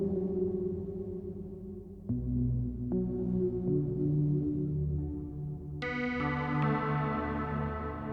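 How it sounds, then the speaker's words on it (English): A synthetic tone drenched in long algorithmic reverb, with a deep low submarine harmonic droning underneath and brighter pinging notes entering later, echoing out. "that low harmonic coming in on the reverb, and it's just a really nice algorithm"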